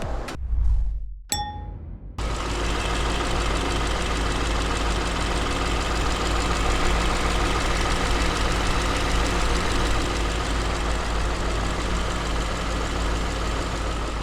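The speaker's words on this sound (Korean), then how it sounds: "엔진 소리 한번 들어봤는데요 굉장히 정숙하고 좋죠" A couple of metallic clicks, then the 5.0-litre engine of a 2018 Genesis EQ900 starts under the open hood and settles into a steady, quiet, smooth idle that continues evenly, close by.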